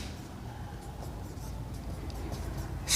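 Chalk or marker scratches in short strokes as a teacher writes on a classroom board during a science lesson, faint and close, with no speech.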